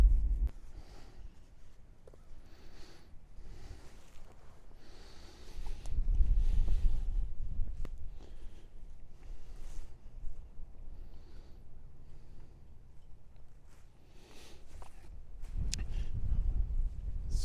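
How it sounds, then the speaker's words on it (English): Cold wind gusts through Ariel-Foundation Park, buffeting the microphone with low rumbling bursts that rise and fade, strongest in two longer gusts. Faint background sounds sit between them and no one speaks. "This wind is just cutting right through me"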